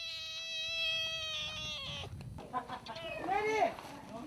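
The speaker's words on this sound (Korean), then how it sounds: "애미라도 찾는지 슬프게 우는 고양이가 딱하기는 해도 안아주지는 않는다" A kitten or cat gives plaintive, drawn-out crying meows near a chicken coop at a rural Philippine farm, several rising and falling wails close by with some clucking fowl noise around.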